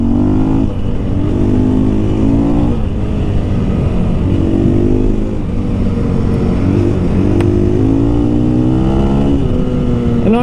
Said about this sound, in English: Oh, a little burnout for the boys